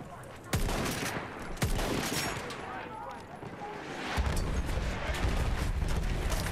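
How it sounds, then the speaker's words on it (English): Battlefield 1 multiplayer battle with booming blasts, one sharp impact near the start and another shortly after, then a rumbling, sustained roar of explosions and gunfire that swells toward the end; indistinct voices murmur underneath. "That artillery is really annoying me"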